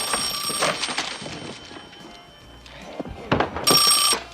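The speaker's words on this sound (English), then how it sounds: "Then the phone rings again" A telephone rings in a 1987 comedy film scene, two bursts of bright bell-like ringing, one at the start and another near the end, loud and close, with a quieter stretch of room noise between.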